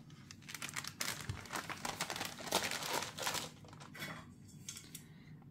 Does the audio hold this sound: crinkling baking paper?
yes